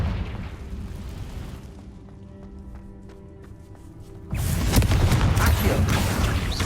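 A Confringo blasting spell goes off in the Hogwarts Legacy video game: a loud broadband roar opens, quieter game ambience with faint ticks follows, then another heavy explosive blast surges in and rumbles on.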